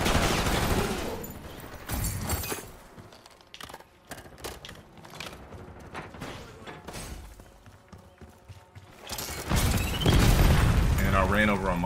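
Gunfire from a first-person shooter game, with bursts of shots and booming blasts that swell loudest near the end, mixed with game effects and someone talking over it.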